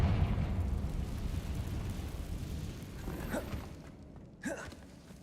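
Confringo fire spell bursts in Hogwarts Legacy: two short whooshing blasts near the end, the second sharper, over a low rumbling cave ambience.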